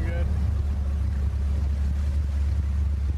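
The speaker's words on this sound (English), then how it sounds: "Oh, the engine doesn't sound bad." A boat engine runs steadily as the boat moves across open water, making a continuous low, loud rumble with wash and wind noise layered over it.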